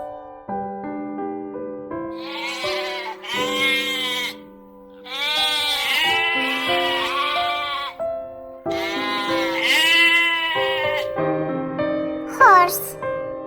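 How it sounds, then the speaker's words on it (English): Several loud, quavering sheep bleats sound over a bouncy children's song backing, with a high squeak near the end. "Sheep."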